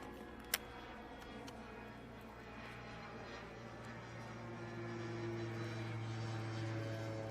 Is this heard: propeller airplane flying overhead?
yes